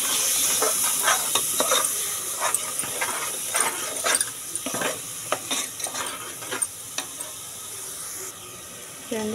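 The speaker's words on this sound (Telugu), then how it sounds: "మసాలా అయితే బాగా కలుపుకోవాలి" Masala being stirred in a hot, sizzling pan for a drumstick mutton curry, with repeated sharp spoon scrapes and clacks over a steady hiss, close by and without speech.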